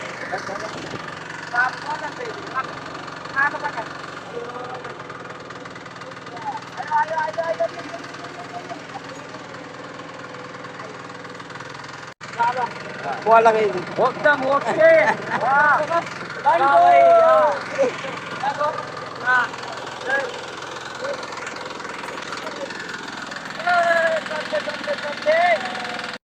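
A tractor engine idling with a steady low rumble and knock under frequent talking and laughing voices, continuing throughout.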